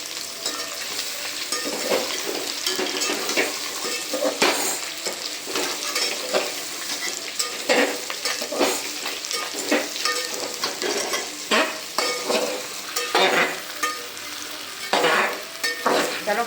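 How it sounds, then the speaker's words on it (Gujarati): Gujarati patra, spiced colocasia-leaf rolls, are stirred into a sizzling tempering in a pan, giving a continuous close sizzle broken by repeated scraping and stirring strokes. "વઘાર થઈ ગયો છે હવે આ પાતળા નાખી દેવાના મિક્સ કરી દેવાના"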